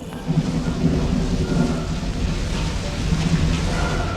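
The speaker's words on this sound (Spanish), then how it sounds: "Los cielos estaban cubiertos y llovía, y el rayo desgarraba la tarde." A thunderstorm with heavy, steady rain and deep rumbling thunder rolling underneath, loud and continuous throughout, with no voices.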